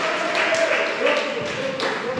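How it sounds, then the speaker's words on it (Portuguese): A church congregation claps together in a sustained, dense round of applause after the pastor's call to praise, steady and fairly loud throughout with voices mixed in. "louvai e glorificai a Deus com uma verdadeira salva de palmas"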